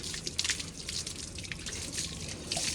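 Plain water pours and splashes over a Royal Enfield Bullet motorcycle as its home wash begins, a soft, continuous spattering and trickling heard fairly faint with no speech.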